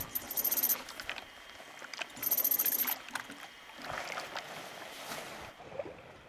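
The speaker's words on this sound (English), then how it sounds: "These boats have just come out to join us now out at sea." Wooden prahu boats paddled out from an Irian Jaya village to meet a sailing boat at sea, with rhythmic paddle splashes in bursts, dripping water and gentle lapping against hulls nearby.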